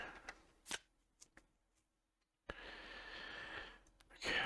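A deck of cards being shuffled at a tabletop game, with a few crisp riffle bursts followed by a longer, steady rustling cascade, fairly close and with no talking.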